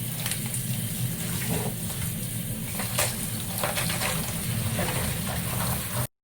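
Halved cabbages being rinsed and washed in water for a kimchi-style dish, a steady close splashing and gushing wash that runs continuously for several seconds and then cuts off abruptly.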